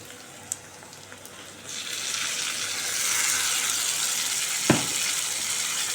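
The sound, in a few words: ground tomato paste sautéing in pan for tomato rice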